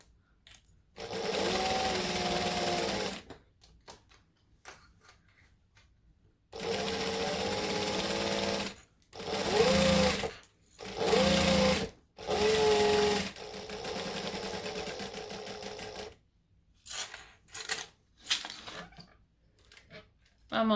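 Sewing machine stitching a men's short-sleeve shirt, running in several loud sustained bursts with short pauses between, the motor whirring steadily and dropping out briefly as the fabric is pivoted.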